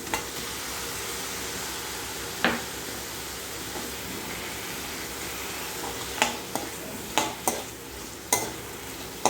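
Onion, salt and a large tomato sautéing and stirred in a pan for a simple egg gravy, a steady soft sizzle throughout with several sharp spatula scrapes and clinks standing out near the end.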